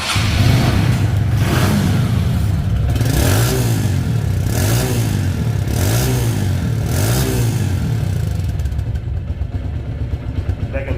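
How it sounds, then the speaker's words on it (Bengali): A TVS Metro Plus 110cc motorcycle engine, second-hand and in showroom condition, revs loudly and close by, swelling up and dropping back in about five repeated pulses over a steady rumbling base. "এখন সাউন্ড কোয়ালিটি শুনুন।"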